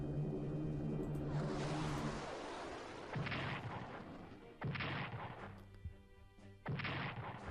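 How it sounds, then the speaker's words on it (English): Strategic bombing in the wartime strategy game Strategic Command: World at War, heavy artillery-like blasts and rumbling explosions arriving in separate loud bursts with quieter gaps between them. "Let's go for some strategic bombing."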